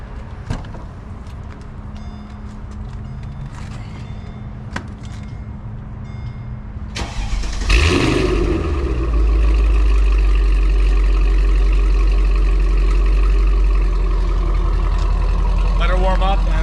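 Mercedes R230 with a newly installed custom Corsa exhaust, fired up outside the bay: a short crank gives way to a loud, steady idle rumble that carries on to the end.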